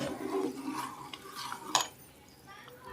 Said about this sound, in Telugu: సో ఇప్పుడు మనం ఒకసారి చక్కగా కలిపేసుకుందాం.